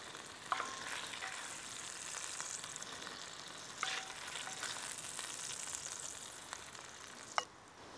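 Salsiccia sausage frying in rendered fat in a pan, a steady bright sizzle running throughout with a few sharp spits and pops standing out at intervals, close and moderately loud, no talk.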